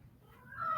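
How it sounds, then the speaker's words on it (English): A cat gives a single faint meow that rises and swells at the very end of a short, quiet moment. It sounds slightly distant, and no one speaks over it. "and a cat agrees with me"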